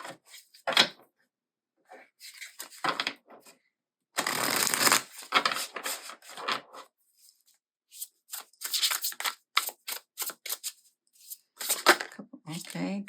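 High Priestess oracle cards shuffled by hand in bursts of riffling and sliding, close and fairly loud, with pauses between; no one speaks.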